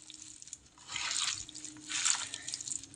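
Hand-washing water is poured into a mixture of amodi fish being mixed by hand in a kitchen, giving two brief close splashy trickles separated by a short gap, with no talking.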